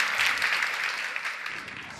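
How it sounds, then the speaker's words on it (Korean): Audience applause at an entrepreneurship awards ceremony in Korea, a steady dense wash of many hands clapping at moderate distance, sustained evenly for about two seconds. "박수 한번 보내주십시오."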